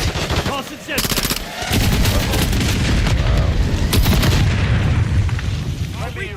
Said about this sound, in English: Incoming! Tossing Semtex.